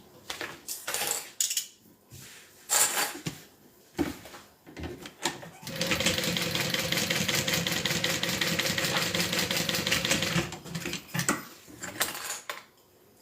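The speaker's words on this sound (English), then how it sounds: "we're going to do a top stitch along the bottom" A sewing machine top stitching along the bottom edge of fabric, starting with scattered clicks and handling noises, then running in a steady rapid mechanical whir for about four seconds before stopping into more light clattering.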